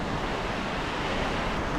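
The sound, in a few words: sea waves washing onto Kirkcaldy beach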